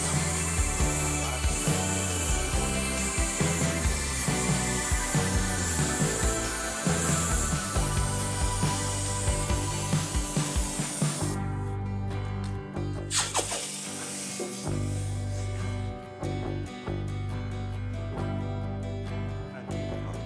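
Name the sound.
torch heating copper rod for soldering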